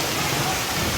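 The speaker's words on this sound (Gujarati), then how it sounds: "ધમ વરસાદ પડી રહ્યો છે" Heavy rain pours down on a village during a thunderstorm, a dense, steady roaring hiss that stays loud and unbroken throughout the short stretch.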